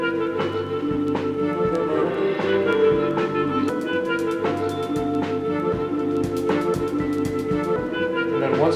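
Trance banjo track: programmed beats and live drums drive a steady groove under layered harmony banjos, dense and continuous with sharp percussive hits throughout.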